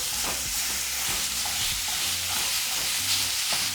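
A pound of ground beef sizzles loudly and continuously in a hot pan over medium-high heat, with a dense hiss and occasional low scraping as the meat is broken apart.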